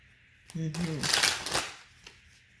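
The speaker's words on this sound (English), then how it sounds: "So I'm gonna put it back and shuffle" Tarot cards are shuffled in a short riffling burst under a voice, followed by a few soft card taps.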